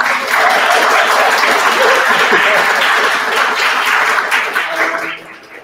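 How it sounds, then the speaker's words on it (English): A room full of people claps steadily and loudly for several seconds, then the applause tapers off and fades out. "On applaudit Romain, c'est sa première présentation, tout le monde"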